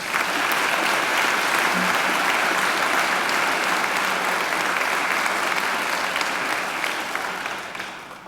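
An audience at a university graduation ceremony applauds steadily, with dense, even clapping filling the hall for several seconds before easing off toward the end.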